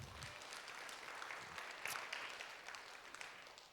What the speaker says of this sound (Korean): 우리 장로님들 부자되라고 한번 박수 한번 쳐주십시오